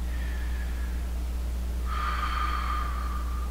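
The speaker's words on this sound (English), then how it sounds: "We want 5 good deep breaths per leg." Deep breathing during a leg stretch in a leg-day workout, a softer breath followed by a longer, louder exhale over a steady low background hum.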